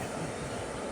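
A train stands at Vadakara railway station, giving a constant close rumble and hiss with no clear clacks or squeals over one second.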